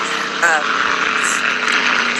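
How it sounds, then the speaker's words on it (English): A steady, loud roar of a low-flying aircraft passing overhead, filling the whole moment with a broad, continuous engine drone. "sorry, low flying plane."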